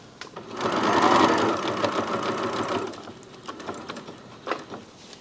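A sewing machine stitches a quilt-as-you-go join, a close steady whirring hum of rapid needle strokes for a few seconds, then stopping, followed by softer handling clicks.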